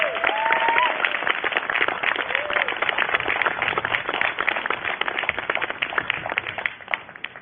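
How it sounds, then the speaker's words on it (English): Audience applause at an outdoor community music school concert in the afternoon, a moderate crowd clapping steadily with a brief voice or whistle early on, somewhat thin and distant. "I think they get an extra round of applause for that."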